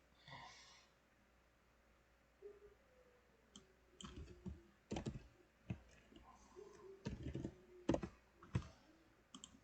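Quiet, close typing on a computer keyboard while filling in an Excel form: sparse key clicks at first, then irregular bursts of taps with short pauses and a faint hum underneath.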